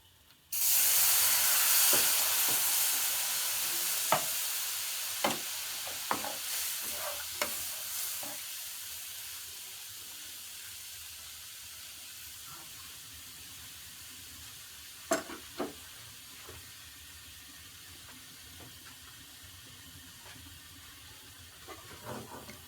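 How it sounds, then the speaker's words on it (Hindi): A milk white sauce for pasta is stirred in a pan, giving a steady bubbling sizzle and hiss with scattered scraping clicks from the spoon, with no talking. "आपने इसको अच्छी तरह हिलाते रहना।"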